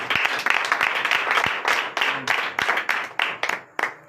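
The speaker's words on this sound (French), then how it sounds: "Donne l'acclamation à notre Seigneur Jésus." A church congregation at a night deliverance service in Comè, Benin, claps steadily, with a dense, continuous applause that thins into separate claps near the end.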